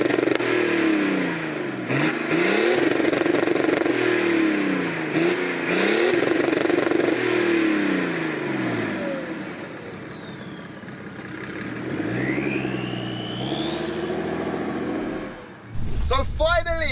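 A tuned 370bhp BMW 335d diesel car accelerating along a road, its engine note rising and falling in repeated surges under steady talk from inside the cabin.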